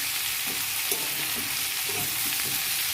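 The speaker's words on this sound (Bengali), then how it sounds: "আমার তরকারি আনাজ ভাজা হয়ে গেছে বন্ধুরা" Vegetables fry in a pan with a loud, continuous hiss of oil under rhythmic stirring strokes. The sound is close, with no voices.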